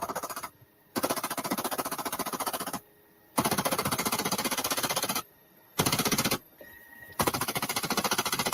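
Loud bursts of rapid automatic gunfire come in long strings, broken by several short silent gaps between volleys.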